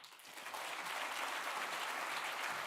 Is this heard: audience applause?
yes